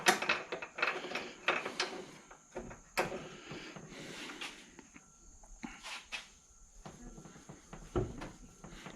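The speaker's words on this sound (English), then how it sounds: "Let me tighten up my vise a little bit." A bench vise being tightened around a brake carrier bracket, with a series of uneven metallic ratcheting clicks and scrapes close by, some louder knocks scattered throughout, no talking.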